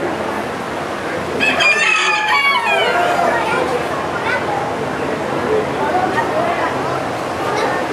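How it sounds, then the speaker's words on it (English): Roosters crowing in a poultry barn at a county fair, several loud drawn-out crows overlapping with clucking amid a busy background of crowd chatter and voices. "Oh, a lot of roosters in here"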